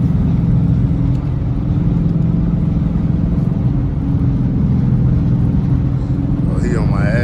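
Loud, steady low rumble of a straight-piped Dodge RT engine cruising through traffic, droning continuously with a brief higher whine near the end.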